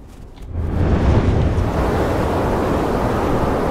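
Wind roars in the video game Never Alone, a broad steady gusting wash that swells in after a quiet start and then holds loud and unbroken.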